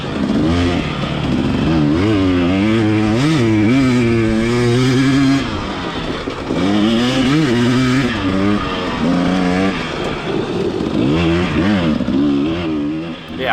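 A dirt bike races through a canyon at Caprock Canyon, its engine loud and close, rising and falling through repeated revs and shifts with a constant raspy roar for the whole stretch.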